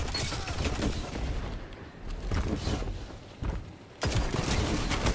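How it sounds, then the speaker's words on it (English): Rapid gunfire from a Destiny 2 Crucible Control match, including shotgun blasts, forms dense bursts that fill the clip, with a brief quieter stretch before loud shooting resumes near the end. "I thought I shot him with a shotgun."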